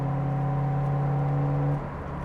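A Nissan Skyline GT-R R33 engine holds a steady, humming mid-rev drone that drops to a lower idle after about two seconds once the throttle is released. It is close and clear, with no talking.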